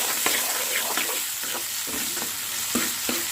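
Chicken curry ingredients frying in oil in a pan, with a loud, continuous sizzle and crackle and a few spoon scrapes as the mixture is stirred, close up.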